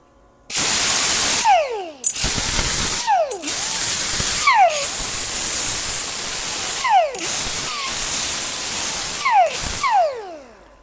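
Steady, loud crackling and sizzling of a welder tacking a bung onto a motorcycle gas tank, running in several long bursts separated by short breaks and sharp pops.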